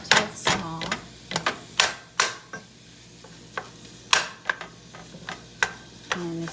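Italian sausage being chopped up and browned in a pan, heard as a series of sharp, irregular scraping taps and clacks from a utensil against the pan over a low, steady background, fairly close.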